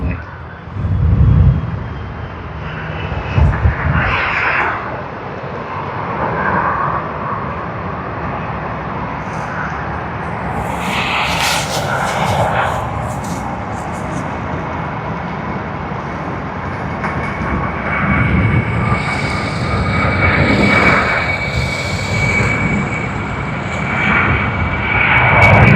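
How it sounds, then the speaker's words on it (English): A Qantas Airbus A330-200 arrives at Sydney Airport, its jet engines producing a loud, steady roar that swells and rumbles throughout, with no voices. "QF19 on the Airbus A330-200"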